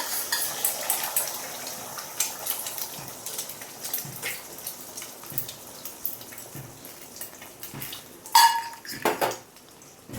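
Eggs are beaten in a bowl with quick metallic clinks of utensil on dish in irregular bursts, close by, with a few louder clattering knocks near the end and no speech.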